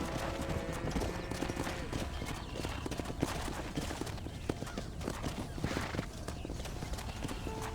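Steady clip-clop of horse hooves throughout, with a horse whinnying at moments over a busy, dense background of game ambience in Red Dead Redemption.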